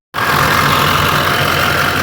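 A car engine idles steadily at close range, a constant mid-pitched running drone with a low hum and no speech, in a setting where pulley noises are being probed.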